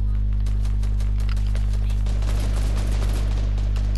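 Rapid gunfire strikes a player-built structure in Fortnite Chapter 2 Season 5, a steady stream of shots over a constant low electrical hum, growing denser and rougher in the second half.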